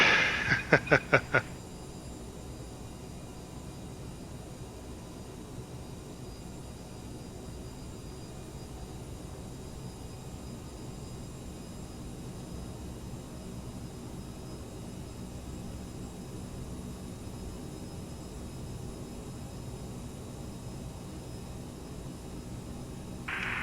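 Cabin of a Boss Air CRJ 900 jet airliner in flight between Regina and Edmonton, a steady broadband engine and air roar held evenly throughout after a few brief clicks at the start.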